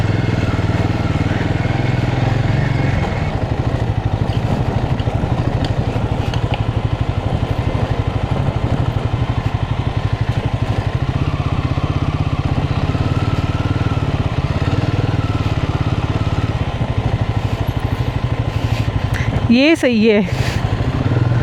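An ATV engine roaring continuously while riding over rough, potholed tracks in Mustang, Nepal, a loud steady drone close to the rider, with someone speaking briefly over it near the end.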